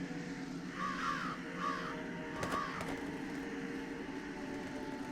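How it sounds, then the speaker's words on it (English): Crows cawing in the video game Jenny LeClue, a few harsh calls spaced apart over a steady background music bed, fairly close and moderately loud. "Let's see if we can't move all the crows over there."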